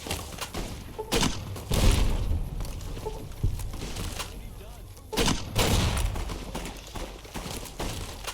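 Gunfire in Fallout: New Vegas around Goodsprings: a few sharp, loud bursts near the start and again mid-clip over a busy, rumbling game background.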